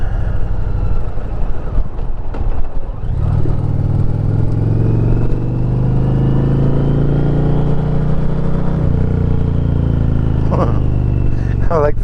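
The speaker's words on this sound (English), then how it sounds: "I like the sound of this engine. The exhaust note is just mean." A 2021 Indian Challenger Limited motorcycle rumbles with a deep, loud exhaust note at cruising speed. It builds after a few seconds into a steady throbbing drone with strong wind noise throughout.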